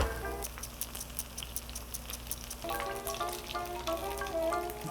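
A Korean seafood scallion pancake sizzles steadily in hot oil over medium-low heat, a dense crackling fry with bursts of popping spatter, close and continuous.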